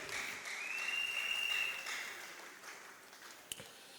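Applause from a church congregation fills the room as a continuous, fairly even clatter of many hands, distant and reverberant, with a sustained vocal tone over it and a brief knock near the end.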